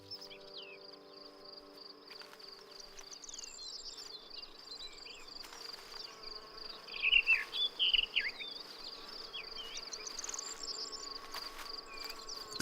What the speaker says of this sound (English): Many others produce nectar, which attracts a colourful array of insects.